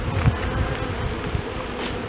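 Honeybees buzzing close by during a hive inspection, a dense continuous drone with no pauses.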